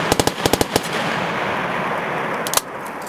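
Rapid bursts of machine gun fire ring out close and loud, a quick run of sharp shots in two short strings followed by a lone report after a pause, with a reverberant hiss lingering between.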